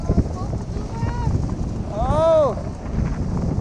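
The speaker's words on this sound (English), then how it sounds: "it's very windy." Wind rushes steadily over the microphone while riding near the top of the Boardwalk Bullet wooden roller coaster at Kemah Boardwalk, a constant roaring buffet with a rising whistling tone midway and voices in the background.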